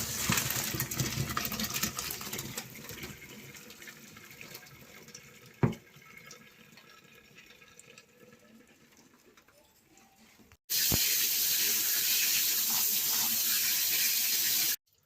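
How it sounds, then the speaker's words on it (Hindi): Water from cooked rice pours and splashes steadily into a sink as it is strained, with a brief metallic clink midway, then a louder rush of running water near the end. "चावल हमारे हो गए, अब इसको पानी को छान लेते हैं।"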